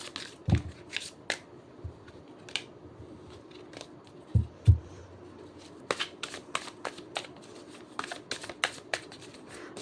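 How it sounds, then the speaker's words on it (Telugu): A deck of playing cards is shuffled by hand, giving irregular crisp riffles, snaps and soft slaps that run through the whole clip with no voices. "కార్డ్ షఫుల్ చేసేంతసేపు పర్సన్ నేమ్ తలుచుకోండి"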